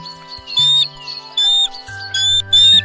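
Cartoon bird arriving in an animated children's story, repeated bright squawky chirps in short bursts over a steady musical background.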